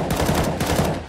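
Rapid gunfire in a video game comes as a quick burst of shots, loud and close, with no voices over it.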